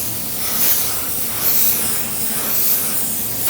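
A cheap spray gun run by a small home compressor lays car paint in a narrow pattern, giving a continuous airy hiss with gentle swells in level, close and steady with no talking.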